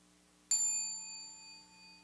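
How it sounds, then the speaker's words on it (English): A meditation bell is struck once, giving a clear bright ring that hangs and slowly fades over a faint hum, with no voices. "Listen to the sound of the bell."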